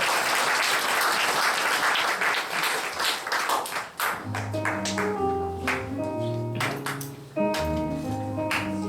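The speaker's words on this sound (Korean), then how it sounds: "우리 큰 박수로 우리 축복하겠습니다" A congregation at a youth worship service applauds loudly for about four seconds. As the clapping fades, soft keyboard notes enter and continue with a few scattered claps.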